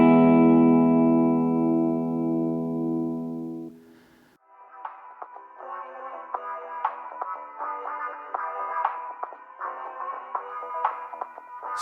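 Music runs through Logic Pro's Space Designer reverb on a bus. A sustained synth chord fades away, then plucked notes ring out with a washy, echoing tail.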